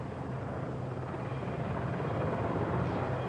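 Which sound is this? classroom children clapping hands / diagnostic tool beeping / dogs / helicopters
helicopters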